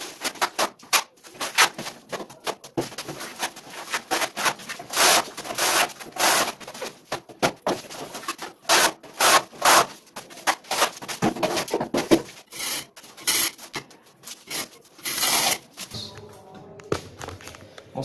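Mortar being spread with a 10 mm notched trowel to set subway tiles on a wall: irregular scraping strokes and wet rubbing swipes come in uneven bursts, close and fairly loud, with soft taps between them.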